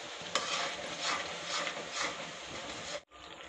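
Tomatoes go into a pan of roasted masala and are stirred, producing a soft scraping and light sizzling that lasts about three seconds, then drops out briefly before resuming.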